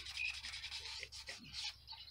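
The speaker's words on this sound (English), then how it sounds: "I'm just going to use the sandpaper to rub the oil into the wood" Fine 600 grit sandpaper rubs oil into a scroll-sawn wooden bowl, a soft, faint, steady scratchy swishing in short back-and-forth strokes, close by with no talking.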